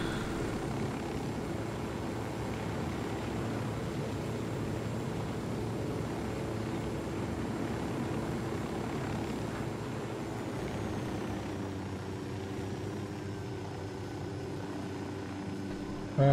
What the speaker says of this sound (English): There's nothing like successfully stealing an army helicopter to round off an episode,